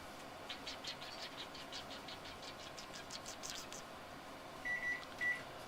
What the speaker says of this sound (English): Beep, beep, beep, beep, beep.